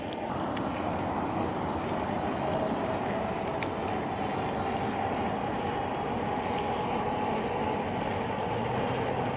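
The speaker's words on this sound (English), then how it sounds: "Looks like we just caught the train, the Roadrunner." The Roadrunner train rumbles past in a steady, loud, continuous roar that holds the same level throughout.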